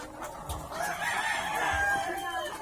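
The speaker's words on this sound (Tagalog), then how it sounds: "Ito yung mga manok na nangingitlog ng puti." Egg-laying hens call close by, one giving a long, drawn-out squawking cry over soft low thumps and background farmyard noise.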